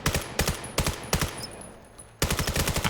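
Rapid bursts of gunfire from the VAIL VR competitive shooter, loud repeated volleys with a brief lull before another close barrage resumes; no voices.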